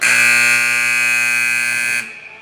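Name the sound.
hockey arena period-end buzzer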